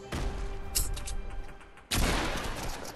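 Gunfire in a video game shooter comes as dense bursts, with a sharp volley partway through and then a heavy, sustained barrage of shots.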